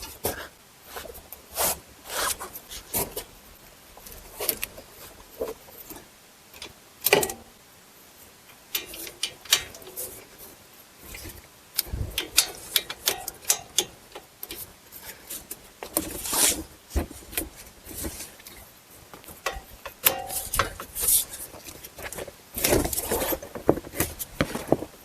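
A ratchet clicks in short bursts while tightening the wheel bearing bolts on a Buick Lacrosse, interspersed with metallic handling and rustling noises close by, no talking.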